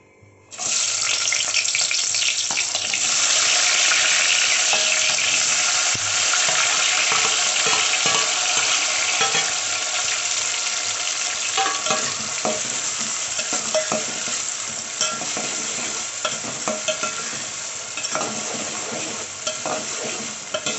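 Oil sizzles and fries loudly and steadily in a pan while mutton curry is being cooked, a dense continuous crackle with occasional utensil clinks, with no talking.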